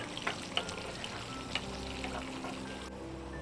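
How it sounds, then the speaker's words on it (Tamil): Small onions roast in a pan until brown for a Kerala-style chickpea curry, a steady, moderate sizzle broken by a few soft clicks of stirring. "வெங்காயம் நல்லா பொரியணும், ப்ரௌனிஷாக ஆகணும்"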